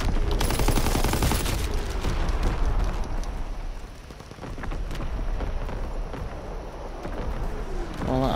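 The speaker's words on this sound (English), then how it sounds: "All that artillery barrage was awful." An artillery barrage in the World War II shooter Call of Duty: WWII: dense, loud rumbling explosions and rapid crackling fire, strongest at the start, easing midway, then building again with scattered blasts.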